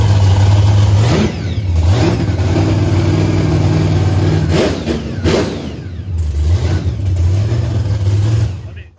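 A 9.3L SMX race car engine revs hard in repeated bursts, a loud, deep roar rising and falling several times to warm the exhaust pipes, with brief dips between pulls.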